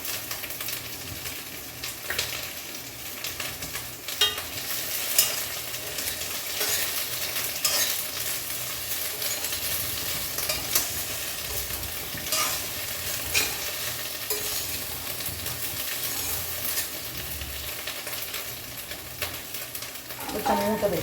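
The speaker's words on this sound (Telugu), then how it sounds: "మూత పెట్టేసి వేయించుకుందాం. ఇవి వచ్చేసరిగా మంచిగా ఓమాకు అంతా వేగిపోయింది" Carom leaves and cumin seeds frying in a pan give a steady, busy sizzle with frequent stirring scrapes and light utensil clinks, and a faint voice is heard briefly in the background.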